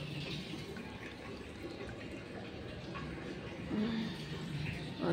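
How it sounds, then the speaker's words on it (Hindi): Water runs and trickles steadily from a tank at a moderate level, a continuous flowing hiss with a slight rise toward the end. "टंकी में से ही पानी जा रहा है,"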